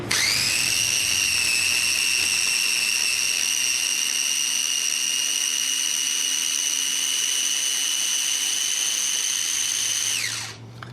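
Food processor blending sauce ingredients for a quick Northern Italian pasta sauce, running as one steady, loud high-pitched motor whine for about ten seconds before spinning down, with no talking.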